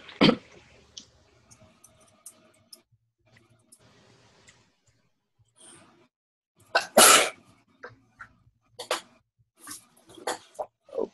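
Single loud sneeze during an online training session, rising sharply from a mostly quiet room; faint clicks and small noises come before it, and a few shorter bursts follow.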